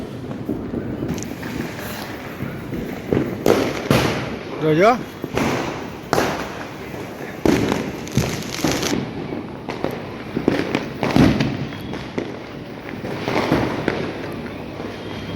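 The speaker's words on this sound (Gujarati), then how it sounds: "તમે જોવો તાકડા કેવા ફૂટે છે" Diwali firecrackers and fireworks bursting across Surat at night, a run of sharp loud bangs and crackles at irregular intervals, some near and some farther off, with a person talking over them.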